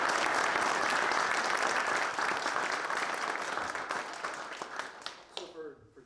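An audience at a shipwright apprentice graduation ceremony claps in a full, steady round of applause that gradually thins into scattered claps and fades out.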